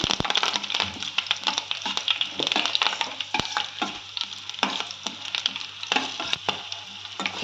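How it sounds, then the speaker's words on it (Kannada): Green chilli fries in a pan with a close, busy sizzle full of sharp crackles and pops throughout, with no talking. "ಅದನ್ನು ಹಾಕ್ಕೊಳೋಣ ಹಾಕ್ಕೊಂಡು ಚೆನ್ನಾಗಿ ಫ್ರೈ ಮಾಡೋಣ"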